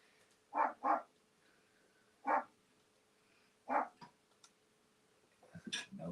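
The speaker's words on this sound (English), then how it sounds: "Now we're barking at nothing again." A dog barks four times, close by: a quick double bark, then two single barks spaced a second or so apart, with a brief rustle at the end.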